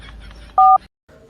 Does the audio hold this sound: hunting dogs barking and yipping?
no